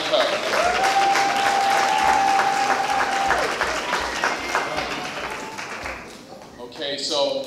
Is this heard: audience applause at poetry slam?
yes